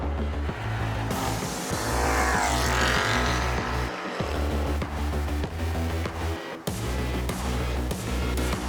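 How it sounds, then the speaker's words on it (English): A turbocharged 525 hp BMW M3 and a supercharged 650 hp Ford Mustang launch hard in a drag race, loud engines roaring continuously with pulsing revs and gear changes, no talk. "the BMW shot off the line with the perfect launch using launch control"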